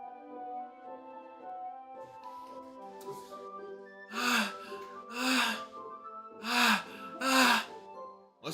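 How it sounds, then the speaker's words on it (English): Sharp inhales through teeth from Doki Doki Literature Club, a video game: four distinct hissing breaths in a steady rhythm over a soft sustained musical tone, close and fairly loud. "A sharp inhale, like someone sucking the air through their teeth."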